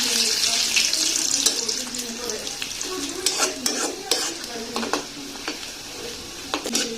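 Dried red chilies hit browned onions frying in a pot for haleem, giving a bright close sizzle and busy stirring scrapes and clatters that fade toward the end, without any speech.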